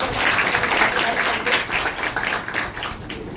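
Loud, dense applause fills a gratitude ceremony held by the Jijau social and educational organisation during a Paithani game program, with many hands clapping steadily and no pause for the whole stretch.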